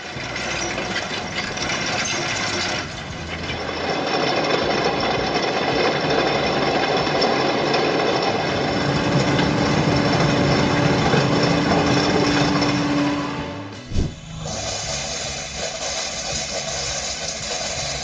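Kenrock EK 140 chain milling cutter mounted on an excavator, grinding through asphalt with a continuous harsh mechanical roar that briefly drops and thuds before grinding on.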